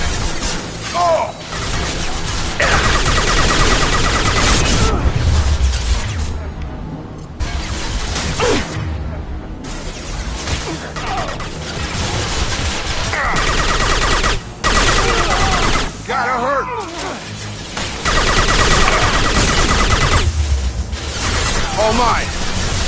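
Sci-fi gunfire rattles through a firefight in Mass Effect 2, with dense bursts of shots, impacts and shattering debris. Loud combat and game voices run nearly continuously throughout.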